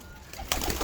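A pigeon gives a single short coo close by, rising out of a quiet background near the end.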